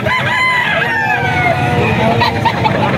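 Roosters from a farm breeder's flock in Bocaue crow close and loud, long wavering calls overlapping one another, with a voice faintly underneath.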